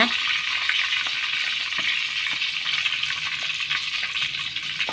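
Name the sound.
tempering spices frying in sunflower oil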